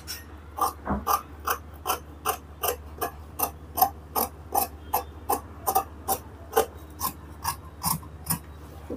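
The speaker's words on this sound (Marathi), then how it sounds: "आता ही पूर्ण बाही आपल्याला कट करून घ्यायची आहे अशा पद्धतीने" Scissors snip through fabric while cutting out a fish-cut sleeve, a steady run of about twenty crisp, close snips in an even rhythm with no talking.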